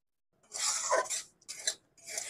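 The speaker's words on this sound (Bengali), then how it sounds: "সুজিটাকে আমি 1 মিনিট ভালোভাবে নাড়াচাড়া করে নিয়েছি।" Semolina is stirred in a frying pan, with a utensil scraping and clinking against the metal in three short close bursts after a moment of silence.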